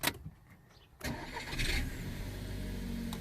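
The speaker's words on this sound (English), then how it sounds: "I'm going to switch on the car and put it into reverse." A VW Golf MK6 engine cranks and fires after a near-silent second, settling into a steady idle that runs loud and close through the rest of the moment.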